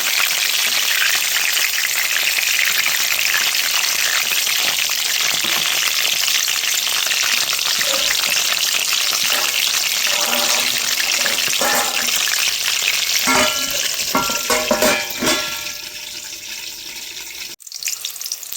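Eggplant slices deep-frying in plenty of hot oil in a pan give a dense, continuous close sizzle, with a few stirring and turning clicks near the end.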